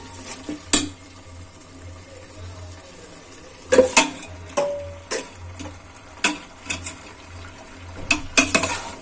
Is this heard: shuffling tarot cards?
no